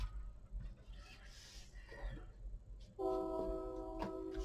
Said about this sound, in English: There's another train. It's going the other direction now.